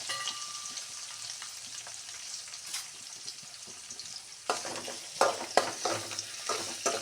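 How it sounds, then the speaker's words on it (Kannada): Sliced onion and crushed garlic deep-frying in a pan give off a soft, continuous sizzle, with sharper scraping stirs clattering in near the end; no voices are heard. "ಹಾಗೆ ಈರುಳ್ಳಿ ಡೀಪ್ ಫ್ರೈ ಆಗಬೇಕು."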